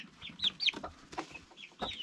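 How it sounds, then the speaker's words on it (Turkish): A rooster clucks and chirps in short, close bursts, a few quick calls spaced over a couple of seconds, with no talking. "Horoz efendi ne yapıyorsun?"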